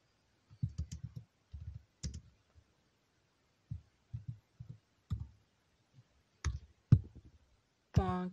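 An address is typed on a computer keyboard in short, quiet bursts of clicking keystrokes separated by pauses, closing with one louder tone.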